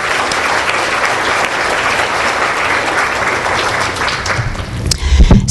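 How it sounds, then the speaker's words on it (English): A conference audience gives sustained, loud applause at an introduction on college going in Michigan, a dense even roar of many hands clapping that tapers near the end amid a few thumps. "So please stand up and let's give a round of applause."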